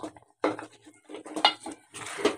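Spinach being stirred into potatoes in a pan for aloo palak, a utensil scraping and clattering against the metal in several short bursts with brief pauses between them, close and moderately loud, no voices.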